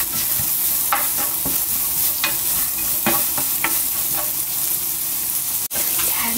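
Carrots stir-frying in oil with a little fine salt, prepared for vegetable bibimbap: a close, steady sizzle broken by scraping strokes of the spatula against the pan.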